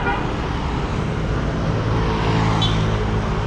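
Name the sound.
street traffic in Da Nang, Vietnam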